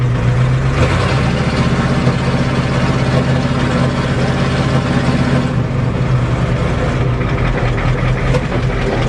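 Ford diesel truck idling with no exhaust system fitted, a loud, steady low rumble running continuously and close up, with no talking over it.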